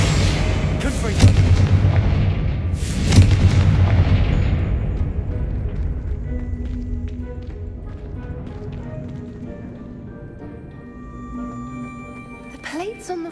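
Confringo fire blast spell in Hogwarts Legacy, two heavy booming blasts close together followed by a long fading rumble and tail, with a voice calling out over the start.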